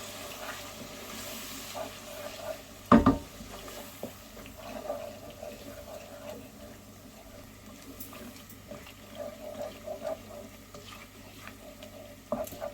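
A spoon stirs chicken curry with tinned tomatoes in a pan, giving soft wet scraping and squelching with one sharper knock early on, close and quiet over a faint cooking hiss.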